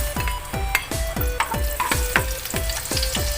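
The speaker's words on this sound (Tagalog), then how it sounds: "Magigisa na tayo, guys. Ayan, mainit na yung mantika. Mula natin sa bawang" Garlic sizzles and crackles in hot cooking oil as it is sautéed, with a steady frying hiss broken by repeated rhythmic scrapes and stirs of a utensil against the pan, close and fairly loud.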